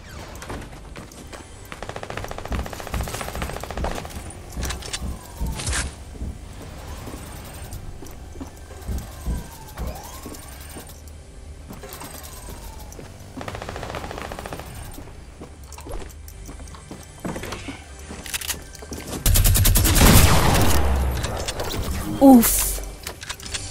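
A minigun fires in a shooter video game, sustained rapid bursts amid other gunfire and game noise, with loud heavy firing near the end while a player talks over it.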